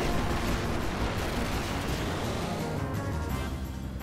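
A Mustard Bomb attack from a Final Fantasy IX boss battle, heard as a sustained, dense roar of explosive rumble and crackle that holds loud and steady for about four seconds, alone with no talk.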